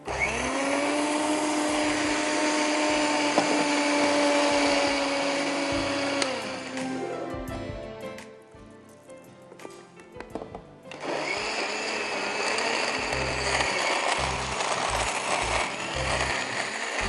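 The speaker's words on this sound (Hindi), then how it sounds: "and blend this all together" An electric kitchen blender whirs loudly as it blends orange juice, ice, sugar and water, running steadily for several seconds, then easing into a quieter rattling lull before surging back up in a second, pulsing burst.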